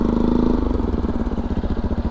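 Motorcycle engine running close by at a shallow water crossing on a rural track toward Singlo Saheb Khana waterfall, a steady throbbing putter with rhythmic pulsing, loud and alone with no talk.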